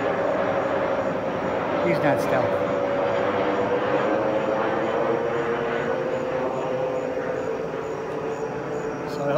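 Jet aircraft roaring overhead, a loud sustained engine drone with a steady tone running the whole time while someone talks over it.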